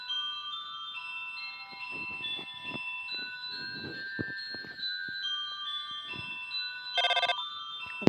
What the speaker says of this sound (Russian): Звонок.